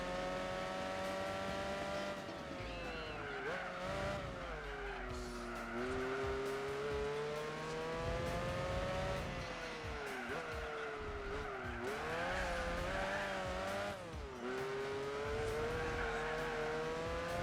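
A race car in Gran Turismo 4 revs hard with a steady, droning engine tone that climbs and dips through gear changes, joined by repeated tyre squeal as it corners, loud and continuous.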